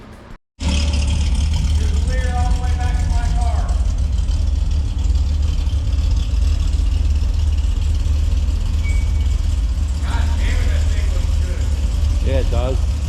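A cammed Pontiac G8 GT V8 runs loud and steady on a dyno, a constant heavy engine drone filling the clip with a brief rising tone near the start and again late, all without speech.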